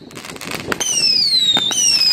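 A 144-shot color pearl firework cake fires at night, with sharp bursts of explosions followed by long, loud, rising and falling whistling tails that keep going over continuous crackling.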